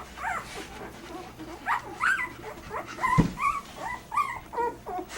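A two-week-old puppy whimpers and yips in a string of short, high, squeaky cries, close by, with a few louder whines in the middle.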